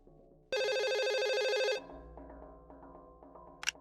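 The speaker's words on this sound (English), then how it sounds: "Before she can make much of it, the phone rings again." A loud electronic telephone ring from the game Twilight Syndrome Kyuumei-Hen sounds for about a second, then fades into soft, quiet game music in the background.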